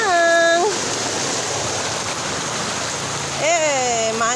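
Floodwater and rain in a flooded housing estate make a steady broadband rushing wash throughout, with a voice talking over it at the start and again near the end.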